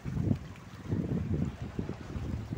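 Gusty wind on an island fishing spot buffets the microphone in low, uneven bursts, rising and falling in rough waves with no one speaking.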